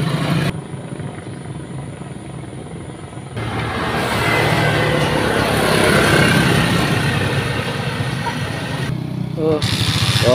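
Motorcycle with a recently replaced stator coil starting on the first press, followed by a steady rumbling idle, close and loud after a brief quieter stretch, with a voice briefly audible.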